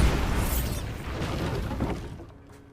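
A Bombarda spell explodes in the Hogwarts Legacy video game, a single loud blast with a rumbling, crumbling tail that slowly fades over a few seconds.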